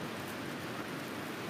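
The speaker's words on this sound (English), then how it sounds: "Can y'all hear that rain?" Steady rain falling outdoors, a dense continuous hiss of drops with no pauses, moderately loud and alone with no voices.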